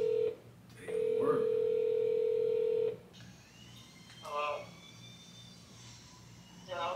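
An outgoing telephone call placed from a phone: a long steady electronic tone sounds for about two seconds, followed by quieter, shorter tone bursts with faint background noise in between.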